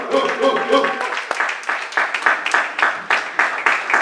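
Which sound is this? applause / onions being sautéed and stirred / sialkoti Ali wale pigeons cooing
applause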